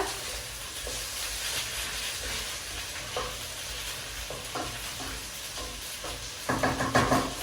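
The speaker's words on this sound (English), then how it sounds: "Then we stir." A pot of fish stew with tomatoes and a pinch of salt is stirred, giving a steady low sizzle with soft spoon scrapes and a louder clatter of strokes near the end, with no talking.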